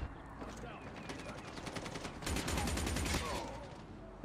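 Rapid bursts of Razor SMG fire in Call of Duty Mobile, dense rattling volleys that grow louder and busier midway, layered over game sound and a voice talking throughout.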